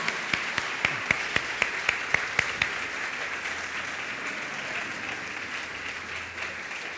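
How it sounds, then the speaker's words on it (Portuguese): Applause from a church congregation at a recovery graduation service. Sharp, regular claps stand out over a broad wash of clapping for the first few seconds, then the applause continues as a softer, more even patter. "Queria convidar você a dar uma salva de palmas, aplaudir a vida dessa turma."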